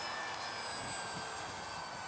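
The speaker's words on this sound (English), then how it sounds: "it's just a very nice, easy flying plane" ParkZone Artizan RC model plane flying overhead, its electric motor giving a steady, faint whine against outdoor air noise, with no talk.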